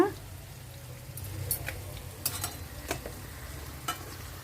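Stuffed bitter gourd fries quietly in oil as it is stirred, with a soft steady sizzle under scattered scraping and clinking of a spoon against the pan, fairly faint.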